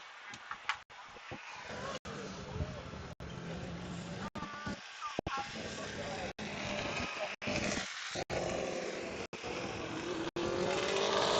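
A Formula Student race car laps an endurance circuit, its engine drone sustained and fairly distant under continuous commentary, with brief gaps and swells as the car passes and accelerates.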